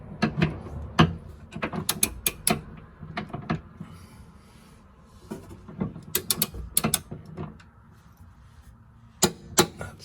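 A ratchet tightening rear subframe bolts on a Subaru Impreza WRX GD, with bursts of sharp, rapid clicking separated by quiet pauses, close and fairly loud.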